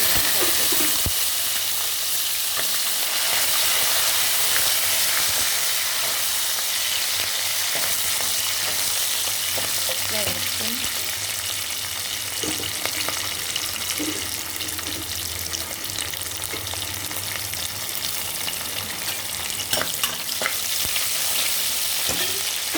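Garlic, dried red chilies, green chilies and onions fry in hot oil with a loud, steady sizzle and crackle, joined by occasional spatula stirs and clinks throughout, close up and with no speech.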